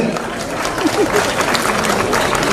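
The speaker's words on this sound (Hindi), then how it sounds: "एक बार जोरदार तालियां सभी के लिए" Students at a school laptop-fund event clap loudly together in steady, dense applause that fills the room throughout.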